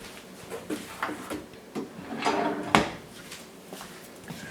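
A kitchen drawer slides open and shut, giving a few close wooden rumbles and knocks with a sharp thump near the end, amid light handling noise.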